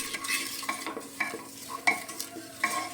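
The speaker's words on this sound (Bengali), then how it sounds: "এবার তেলের মধ্যে ভালো করে হলুদ লবণটা মিশিয়ে নেব" Turmeric and salt being stirred into hot oil in a pan for a new-potato mutton curry, with repeated scraping strokes of a spoon over a soft sizzle, close and fairly quiet, no talking.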